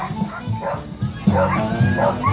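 Racing dogs at a SuperDogs show at a fall fair bark and yip excitedly, with whimpers mixed in, heard close under an announcer speaking over a PA.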